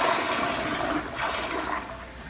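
An American Standard Yorkville toilet from 2012 flushing, a loud rushing swirl of water that peaks and then tapers into a fading drain.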